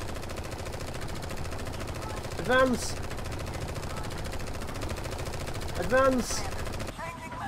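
Machine gun fire rattles continuously in the tactical shooter Strain Tactics, a dense steady stream of rapid shots under a short shouted command and bursts of other battle noise.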